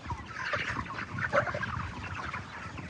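A flock of broiler chickens fills a poultry house with dense, continuous clucking and chattering, steady and fairly close, with no talk over it.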